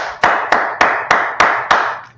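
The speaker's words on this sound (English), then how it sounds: "First of all, let's clap it up for the Lord." A church congregation gives six loud, evenly spaced claps in unison, each sharp strike ringing briefly before the next, with no speech.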